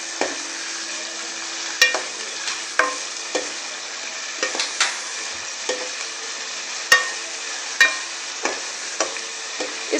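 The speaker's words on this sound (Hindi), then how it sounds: "अब हम इसमें चिकन डालेंगे।" Chicken with garlic frying in a pan for chicken karahi, a steady bright sizzle broken by sharp clicks and scrapes of a spatula stirring at irregular intervals, close and alone without talk.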